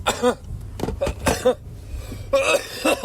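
A few harsh coughs close to the mic, bunched in short bursts with brief pauses between them, and no speech.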